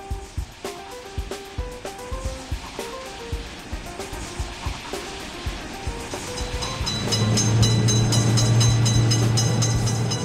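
A train rolls past a railway level crossing with rhythmic wheel clacks over the rails, then swells into a loud, sustained rumble with a droning tonal hum as the cars pass close by.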